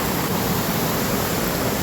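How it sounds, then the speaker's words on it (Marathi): A large waterfall near Tiwadi village roars as a steady, dense broadband rush, continuous and fairly loud throughout with no voices over it. "धबधबा इथं मोठ्या. हो इथं आहे."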